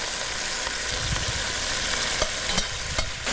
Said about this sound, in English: So while everything is cooking down, we'll give a nice stir here.